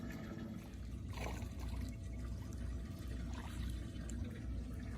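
A largemouth-style bass let go back into Louisiana water gives a soft, steady trickle and splash of moving water that holds through the whole stretch, close by, with no talk over it.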